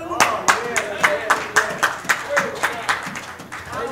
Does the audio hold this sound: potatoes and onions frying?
no